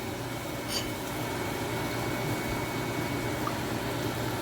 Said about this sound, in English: I'm going to let it boil just a little bit more.